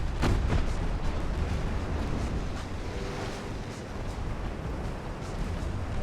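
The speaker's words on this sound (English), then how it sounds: "torpedo hits on the Honolulu" Torpedo hits on a ship in the naval video game Ultimate Admiral: Dreadnoughts, a loud booming explosion at the start followed by heavy rumbling, roaring wash that stays thick and steady.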